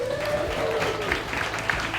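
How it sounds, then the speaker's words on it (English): Wedding guests at Broadoaks Country House Hotel clap and cheer for the bridesmaids, a steady wash of applause from a crowd in a room. "Can we get a cheer for the bridesmaids, everyone?"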